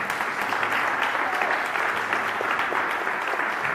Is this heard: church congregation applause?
yes